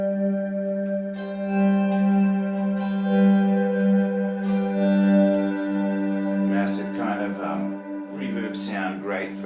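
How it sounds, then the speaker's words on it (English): Electric guitar played through two delay pedals and a reverb pedal rings out in sustained, swelling chords with long echoing tails, fairly loud and alone, followed by brighter repeated notes fading into lush reverb. "reverb sound, great for volume swelling."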